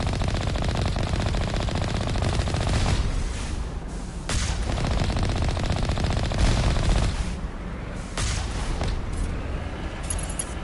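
Rapid enemy gunfire in the video game Mass Effect 1, dense bursts of automatic shots with booming impacts, loud and nearly continuous, easing briefly in short gaps before resuming.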